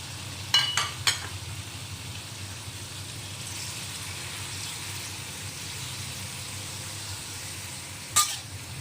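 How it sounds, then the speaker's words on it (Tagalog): Squid frying in a pan for aglio olio spaghetti gives a steady, moderate sizzle throughout, with a few sharp utensil clinks near the start and one more clink near the end, no talking. "Fry lang po natin."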